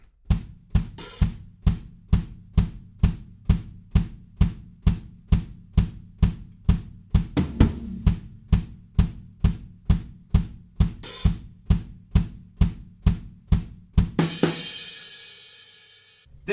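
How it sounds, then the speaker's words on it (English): Steady kick drum breakdown pattern thumping in a regular pulse, heavy and close, ending with a crashing cymbal wash near the end. "Then we break down to just our kick drums"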